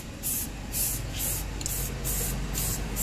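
Spray paint hisses in steady, rhythmic bursts, about six of them, as a Mitsubishi Pajero brake rotor disc and caliper are coated up close. There is no talking.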